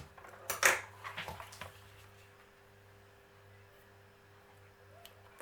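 Sharp snips of a cutting tool clip through an orchid root near a glass vase, a bright close crunch followed by a few softer clicks, then a quiet hum.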